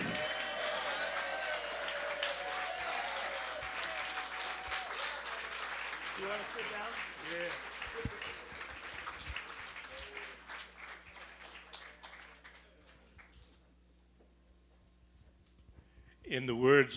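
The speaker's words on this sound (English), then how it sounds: "Y'all got to still keep clapping." Crowd applause at an evening tribute show, broad clapping that gradually thins and fades, with a voice over it and a sudden louder burst of sound right at the end.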